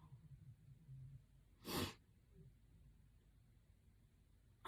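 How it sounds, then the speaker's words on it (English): One short, sharp human sneeze bursts out close by in an otherwise quiet room, with faint breathing before and after. "Gonna sneeze."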